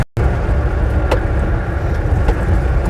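A car drives along a road crossing a reservoir in the Elan Valley, giving a loud, steady interior rumble of engine and tyre noise throughout.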